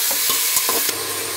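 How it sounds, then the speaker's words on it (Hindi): Mutton pieces browning in a pot for black pepper gosht, loud steady sizzling with several sharp scraping strokes of a spoon stirring the meat, close up and with no voices. "गोश्त को हम थोड़ा सा भून के बना रहे हैं"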